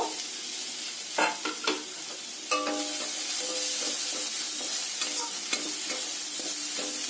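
Mashed jackfruit seeds sizzle steadily as they fry in a pan, with repeated scraping and clattering strokes of a spatula stirring them, close and continuous, no voices.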